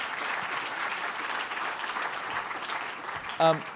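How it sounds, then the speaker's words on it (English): Audience applause after a speaker is introduced at a talk on real estate and cities, a steady wash of clapping throughout, with a brief voice breaking in near the end. "let's give Bill a round of applause"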